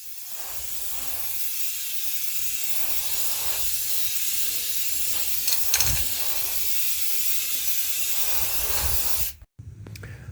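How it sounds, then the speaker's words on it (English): Steady, loud hiss of black color-match spray paint coating metal parts of a Honda Ridgeline truck bed rack hung from wires, running continuously for about nine seconds before cutting off abruptly. "I will spray it with a black color match spray paint and then some clear coat"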